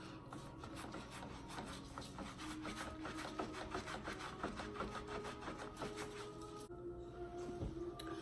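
Rough, rhythmic rasping as a natural African pumice stone is rubbed back and forth against the feet, repeated scraping strokes close up with no talking.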